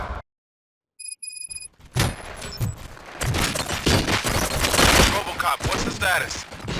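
Rapid bursts of gunfire crackle in RoboCop: Rogue City, a dense loud volley of shots with clattering impacts following a brief electronic chime, building into sustained firing over the final seconds.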